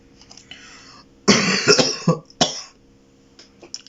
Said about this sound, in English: I can only apologise for how much I'm coughing